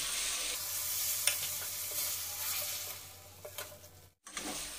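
Spices frying in a pan with ground sesame and mustard paste and fried potatoes for a Bengali vegetable dish, giving a steady, close sizzle broken by scraping stirs and a short gap near the end.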